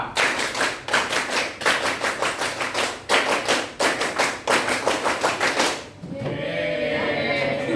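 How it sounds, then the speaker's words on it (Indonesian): A classroom of students performs the Pramuka scout clap twice in a row, crisp rhythmic patterned handclaps repeating in clustered beats for about six seconds, then giving way to murmuring voices. "2 kali tepuk pramuka."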